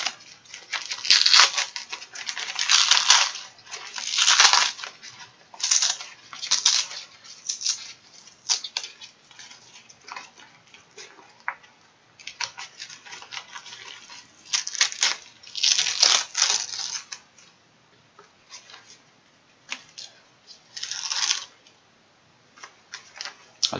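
Dried whole pollock being pulled apart by hand, its flesh separated from the skin and bones, giving dry crackling, tearing and rustling bursts in irregular clusters, close and fairly quiet, with no talking.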